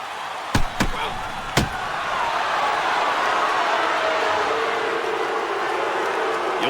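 A standing, unhappy crowd in the NHL 09 hockey video game gives off a sustained, dense roar after a few sharp thuds at the start, steady and fairly loud to the end.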